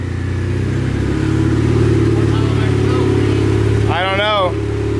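A car engine fitted with an eBay turbo runs loud and steady on a dyno, a droning roar with a rising whine near the end, before a brief falling, wavering tone cuts through.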